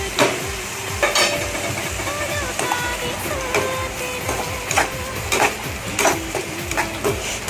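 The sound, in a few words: stirring spice-coated food mixture in a pan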